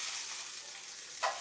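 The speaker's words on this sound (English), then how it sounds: "I'm going to put this broccoli in first because it's frozen. Y'all hear that sizzle?" Frozen broccoli sizzles steadily in a hot pan, a constant hiss with a brief louder crackle near the end.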